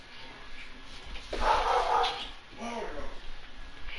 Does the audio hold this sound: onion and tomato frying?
no